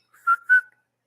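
A pet cockatiel gives a short two-note whistle, clear and close, two quick rising chirps alone in a quiet room.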